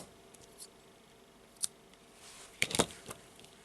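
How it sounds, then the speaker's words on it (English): Scissors snip thread on a handmade Christmas friendship bracelet. A few sharp, close clicks stand out from a quiet background, with one isolated snip and then a quick cluster of cuts near the end. "I will take the scissors and cut."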